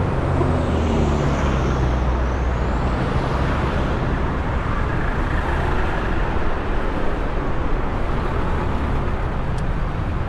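Dense road traffic roars continuously around a rider on a motorcycle, a loud, constant broadband rumble of cars, buses and trucks with a faint high whine near the start.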